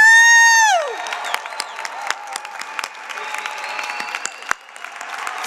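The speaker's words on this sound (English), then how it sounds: "Let's give all of our graduates a round of applause. Come on. Make some noise." Graduation ceremony audience breaking into loud applause and cheering with whoops, following a brief electronic tone at the start; the clapping and shouts continue steadily.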